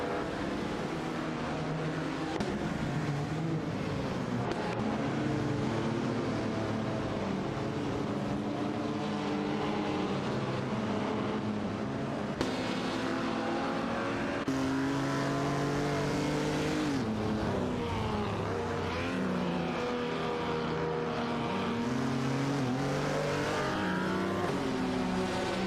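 Race cars in a video game, a Maserati 300S and an Aston Martin DBR1 dueling for position, with engine notes rising and falling in continuous loud revving and gear shifts throughout.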